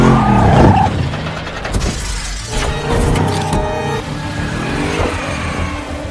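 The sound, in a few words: car skidding during chase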